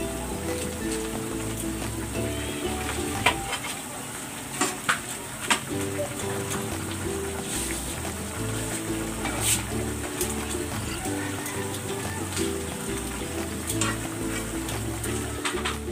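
Fish going into a simmering fish broth with fish sauce, a steady bubbling and crackling hiss with occasional soft clinks and stirs, close and continuous throughout.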